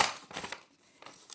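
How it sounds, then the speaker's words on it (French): Scissors cutting white paper, a few quick snipping and crinkling strokes, faint and close, with a short pause between cuts. "Tu coupes, tu prends un papier blanc comme ça."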